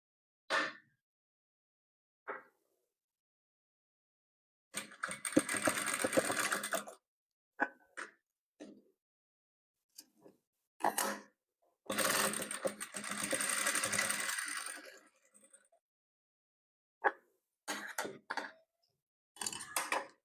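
A sewing machine stitches patchwork quilt pieces in short bursts of rapid, loud mechanical whirring, the longest lasting a couple of seconds. Quick clicks sit between the bursts, and there is silence in the pauses.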